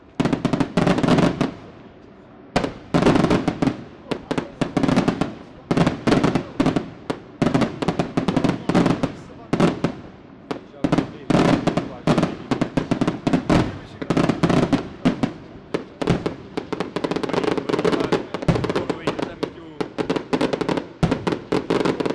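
Aerial firework bombs from a festival display in Siano, Salerno, burst one after another in a dense, loud barrage, sharp blasts overlapping with crackling tails across the whole stretch.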